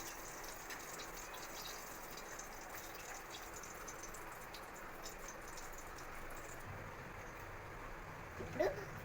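A glass of water poured slowly into a pan while making Maggi noodles, a steady rushing splash that runs evenly throughout and ends with a small clink near the end.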